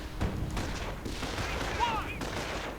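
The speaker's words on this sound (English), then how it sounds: "And a strafing run. And a strafing run again." Strafing-run gunfire in a strategy video game, heard as a dense, continuous rumble of distant automatic fire with a few whistling tones overhead and battle noise throughout.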